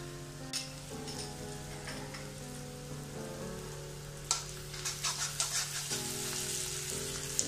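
Tomato, chilli and green chilli sauces hit egg noodles in a hot pan, giving a soft, continuous sizzle with scattered crackles and stirring, heard faintly beneath steady background music.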